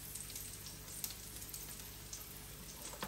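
Frying in a pan while making red pesto broccoli pasta with heavy cream: a steady, fairly quiet sizzle and crackle runs throughout, with a few small pops and no talking.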